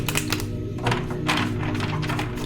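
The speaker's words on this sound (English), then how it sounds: "let me get this third shuffle done really quick" A deck of tarot cards is shuffled quickly in the hands, giving a dense, continuous run of riffling, ruffling card clicks close up, with no talking.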